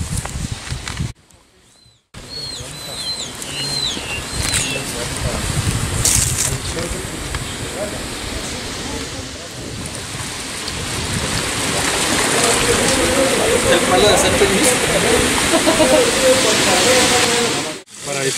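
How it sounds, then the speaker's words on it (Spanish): Steady broadband rush of running water at a trout farm in the Guachochi highlands, continuous and fairly loud throughout, briefly dropping out near the start before swelling back, with faint bird chirps early on. "el sonido del agua"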